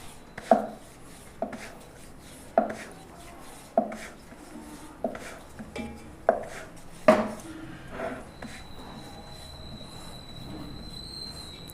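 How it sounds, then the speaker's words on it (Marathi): Rolling pin thumps and rolls over jaggery puran poli dough in a regular rhythm, about seven soft knocks followed by quieter rolling and a faint hum. "हलक्या हाताने अशी पोळी लाटून घ्यायची आहे"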